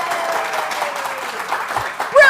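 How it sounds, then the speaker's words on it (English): An audience in an auditorium at a family literacy event bursts into brief applause on cue, a short burst of clapping and crowd noise lasting about two seconds. "So when I go like this, I want to hear applause."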